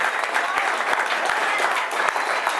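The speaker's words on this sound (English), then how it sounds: "We want to give you a round of applause." Continued applause from a gathered audience honoring the Navajo Republican Committee, a thick even wash of clapping with a few sharper claps and a murmur of voices beneath.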